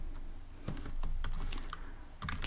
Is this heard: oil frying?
no